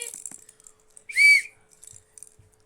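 A single bright whistle sounds in the Murder Mystery 2 video game, a short clear tone lasting about half a second amid sparse faint clicks and quiet game noises.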